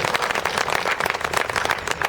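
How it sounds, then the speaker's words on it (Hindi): A live audience at a Hindi poetry evening applauds a poet, dense steady clapping and crowd noise filling the whole stretch without a break. "जोरदार तालियां बदनाम शायर के लिए।"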